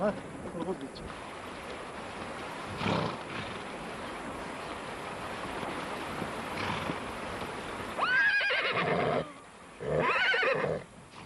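Mongolian horses whinny twice, loud and close, with shrill rising calls near the end, over a steady outdoor rush of wind or water and some faint background voices, in western Altai, Bayan-Ölgii.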